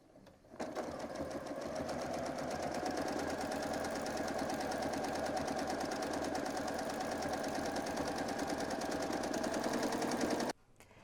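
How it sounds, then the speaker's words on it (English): A sewing machine doing free-motion quilting on a small quilt hums in a steady, even mechanical drone for about ten seconds, starting and stopping abruptly, close and loud with no speech. "I'm going to turn this little quilt around to stitch back in the other direction."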